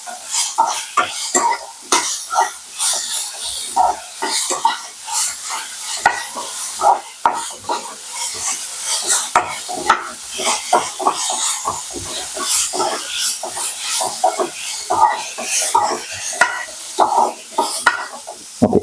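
Onion, chili and tomato sautéing in a pan for a chicken gravy, with a spoon scraping and stirring in steady, busy strokes over a soft sizzle, close and fairly loud throughout.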